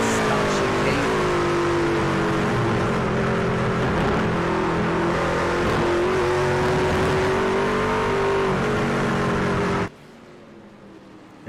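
Race truck engine in a motorsports truck series race, captured by an overhead engine camera: a loud, sustained roar with shifting pitch for about ten seconds, then cutting abruptly to near quiet.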